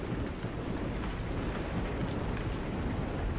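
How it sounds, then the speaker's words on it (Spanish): Steady rain drums on a roof and windows at night, a dense, continuous wash with a deep, distant rumble of thunder rolling underneath, no voices. "El sonido de la lluvia golpeando el techo y las ventanas, los relámpagos iluminando el cielo nocturno y el retumbar lejano de los truenos"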